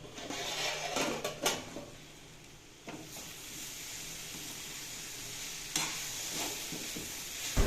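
A lid is lifted off a cooking pot and cooked beans are stirred. Metallic clinks and scraping sit over a soft simmering hiss, with a few sharp knocks near the start and end.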